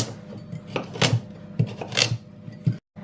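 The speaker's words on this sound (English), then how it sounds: "First thing we're going to do is cut this carrot into blendable pieces." Several sharp knife chops cut a carrot into pieces, thudding against a wooden board at an uneven pace, close up, with light kitchen rustling in between.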